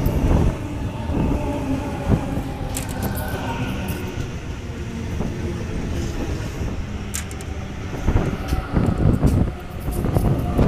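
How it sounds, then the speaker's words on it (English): A city-bound Sydney Trains Waratah set arrives into platform 1 at Blacktown, a steady rumble with brakes and wheel noise at moderate volume, picking up briefly toward the end, with no talk over it. "We have a city-bound Waratah arriving into platform 1."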